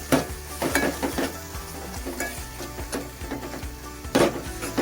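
A chutney mixture roasts in a pan over low heat as a spoon stirs and scrapes it in repeated strokes, with soft sizzling beneath.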